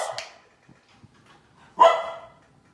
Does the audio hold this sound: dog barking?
yes